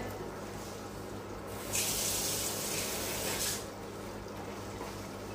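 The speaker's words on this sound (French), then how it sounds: "je vais rincer ma cuillère" A kitchen tap runs steadily while a spoon is rinsed, with the water stream growing louder and brighter for about two seconds in the middle before settling back.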